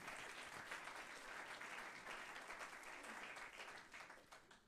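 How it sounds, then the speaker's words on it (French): Audience applause at an awards ceremony, a dense, steady round of clapping from a room full of people that fades slightly toward the end. "Vous pouvez l'applaudir, hein, bien sûr."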